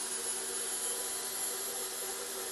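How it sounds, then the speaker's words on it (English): Air spindle on a jig grinder running steadily, a constant high whine with broad hissing air noise, loud and close, alone without talk. "Turn the air spindle on."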